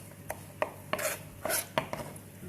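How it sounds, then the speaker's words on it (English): Peppers chopped on a cutting board for shakshuka, about eight crisp knife strikes at an uneven, unhurried pace, close and distinct against a quiet room. "And we're going to chop these ones up and put them into our tomato dish."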